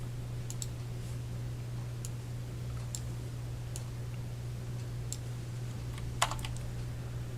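A computer keyboard is typed on to rename a file, giving sparse, quiet individual key clicks spaced irregularly over a constant low electrical hum, with no voice.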